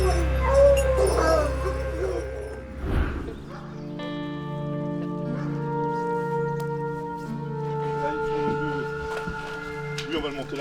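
A pack of around thirty abandoned hunting dogs found in a forest in Dordogne whimpers and yips, with high plaintive whines and sustained howl-like tones over a rumble, while people talk.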